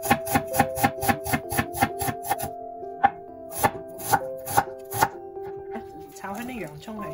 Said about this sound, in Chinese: 而家俾一個洋葱切碎佢